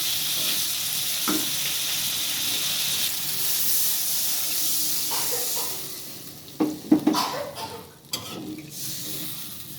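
New potatoes and quail eggs sizzle steadily in a pan of cooked-down spices, a continuous frying hiss with a few sharper stirring scrapes and clinks near the end.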